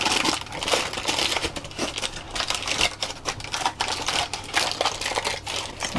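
Baking paper is crumpled and crinkled by hand while lining a quiche tin, giving a continuous close crackling rustle with sharp papery snaps throughout.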